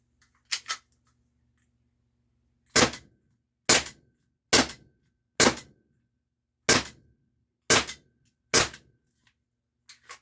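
A Walther PDP Compact T4E training marker fires sharp, loud, close shots: a quick pair first, then seven evenly spaced cracks roughly a second apart, with silence between them and no talking.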